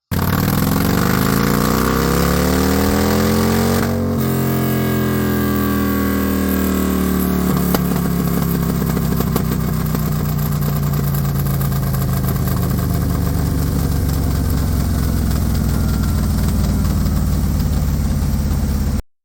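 Harley-Davidson M8 motorcycle engine on a dyno during timing adjustments, revving up and down in sweeping pitch changes, then settling into a loud, steady low rumble close by.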